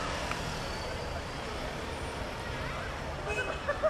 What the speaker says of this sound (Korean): 신촌을 통과할 모든 차량을 2차선에 불과한 도로가 감당하긴 힘들어 보입니다